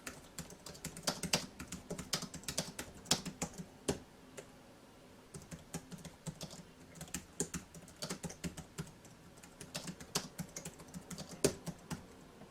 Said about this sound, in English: So let me type.